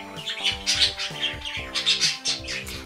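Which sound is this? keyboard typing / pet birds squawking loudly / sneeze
pet birds squawking loudly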